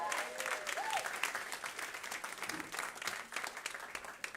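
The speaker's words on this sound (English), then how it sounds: "So please give them another round of applause." A live audience applauds at an on-stage conversation event, a dense, steady patter of many hands that begins strongly and gradually tapers, heard fairly softly from the room.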